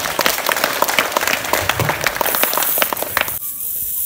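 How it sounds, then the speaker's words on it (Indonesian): Applause from an audience at an event about building a chapel in Petuk, Kupang. The clapping is dense and continuous, with crowd voices mixed in, and it cuts off sharply near the end. "Mari kita beri tepuk tangan untuk Pak Ridwan."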